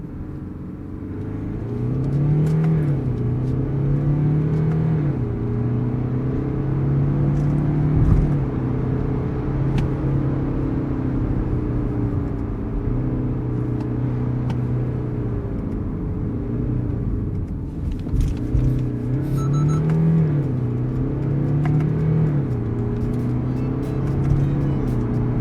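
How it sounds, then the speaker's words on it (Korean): A 2019 BMW X4 20d M Sport diesel accelerates in sport mode with manual gear selection, its engine droning loud and close, with the pitch climbing and dropping through gear changes over about 25 seconds. "스포츠 모드, 스포츠 기어, 수동 모드 주행."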